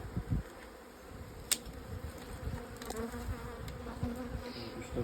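Honeybees buzz around abandoned beehives infested with varroa, giving a dense, continuous close hum with a few louder passes and knocks.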